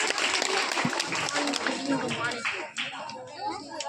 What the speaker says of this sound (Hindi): एक बार जोरदार तालियां छोटे से बच्चे के लिए।